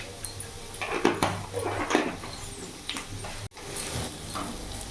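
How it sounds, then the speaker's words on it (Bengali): A spoon scrapes and knocks against a pan while sugar is stirred into sabudana pilaf, with steady clinks and scraping strokes over a low background hum. "ভালো করে নাড়াচাড়া করে মিশিয়ে নেব যাতে চিনিটা ভালোভাবে গলে সবার সাথে ভালো করে মিশে যায়"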